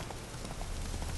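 Horse hooves clip-clop faintly and steadily in The Witcher 3: Wild Hunt on PS4, a soft rhythmic trot buried in a wash of ambient game noise.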